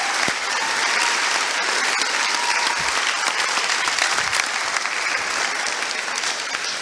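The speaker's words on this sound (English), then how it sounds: "can I get a huge round of applause to the speakers that we brought in today?" A large audience claps for the speakers at a conference talk, a dense, steady wash of applause that holds at even loudness from start to finish.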